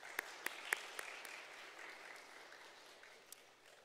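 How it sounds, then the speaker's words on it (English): Church congregation at a Sunday service applauding newlyweds, soft distant clapping with a few sharp claps at the start, then a faint even patter that fades away. "let's give them a big round of applause."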